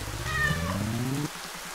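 A cartoon cat character in the Spirittea video game gives a single short, rising meow that trails off over soft ambient game background.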